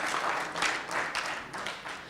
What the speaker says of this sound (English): I think you can give us a round of applause.